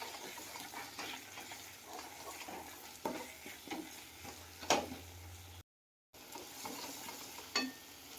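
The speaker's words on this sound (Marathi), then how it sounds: "आपण याला चांगलं परतून घेऊ." Red chili powder masala, including Byadgi chili powder, sautéed in a pan for a homemade cashew masala, with soft frying crackle and spoon scrapes and stirs running steadily at moderate level, cut by a brief gap.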